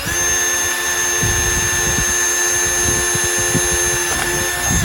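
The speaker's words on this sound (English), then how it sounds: "as you're drilling into the body of the Jeep" A power drill runs on a slow setting, biting into the metal body of a Jeep JL/JT while inner fenders are fitted. The motor whines steadily and the bit chatters through the panel, close and loud, with no talking.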